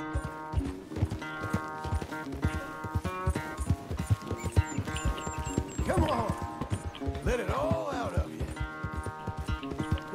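Horse hooves clip-clop at a steady gait in Red Dead Redemption 2, with snorts and a whinny in the game audio and someone speaking over the riding.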